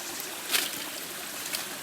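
Water flows steadily at a stream inlet fed by simple piping in the wilderness, a constant soft hiss and trickle with a couple of slightly brighter splashes, no voices.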